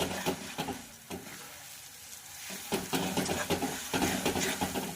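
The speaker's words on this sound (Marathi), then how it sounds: "मसाला आपण यामध्ये घातलेला आहे आणि याला छानपैकी असं फ्राय करून घ्यायचं आहे" Masala for dry chicken frying in a pan gives off a steady, close sizzle, broken by repeated scraping stir strokes throughout.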